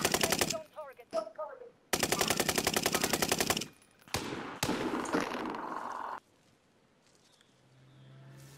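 Rapid bursts of automatic machine gun fire mixed with single gunshots, loud and close, in several long volleys with short gaps, then fading to quiet rumble.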